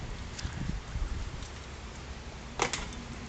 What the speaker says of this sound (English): Unfortunately, it's raining a little bit now